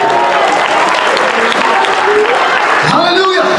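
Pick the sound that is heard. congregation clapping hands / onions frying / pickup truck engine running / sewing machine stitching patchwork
congregation clapping hands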